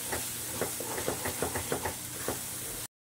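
Salted tomato sauce being stirred by hand, a spoon knocking and scraping the pot in a steady run of soft close taps over a faint hiss of simmering, with no talk.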